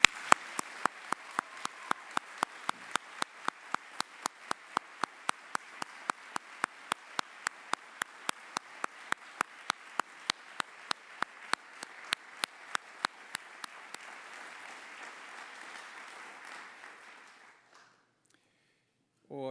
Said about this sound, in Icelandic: við ætlum öll að klappa alveg svakalega vel fyrir þeim